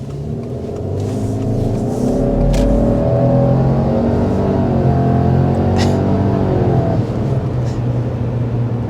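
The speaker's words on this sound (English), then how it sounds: "There's the turbocharger just then, too." A 2024 Subaru Legacy Sport with a turbocharged engine accelerating in sport mode, giving a loud, continuous low engine drone with rising and falling tones heard from inside the cabin, without talk.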